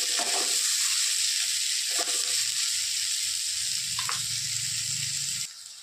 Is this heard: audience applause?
no